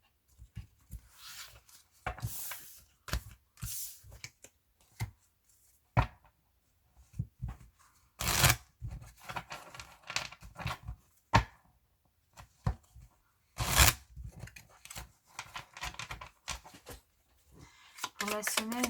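Tarot cards shuffled by hand for a reading, quick papery riffles and soft slaps in irregular bursts, with a person speaking quietly between them.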